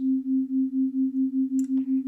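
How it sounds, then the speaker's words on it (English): Two slightly detuned sine waves on an Arturia Synclavier-V synthesizer, a steady pure tone pulsing with a regular slow beating wobble, with a brief faint click and rustle near the end. "the tuning of these 2 sine waves is getting further and further apart from each other"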